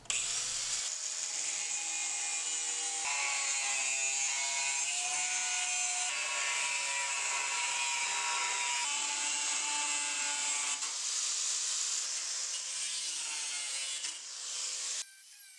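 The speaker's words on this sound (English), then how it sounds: "Next, I'll use an angle grinder to cut out the knife." An angle grinder cuts a small EDC fixed-blade knife blank out of steel, giving a steady, loud, high-pitched whine that runs without a break for about fifteen seconds, with no voices.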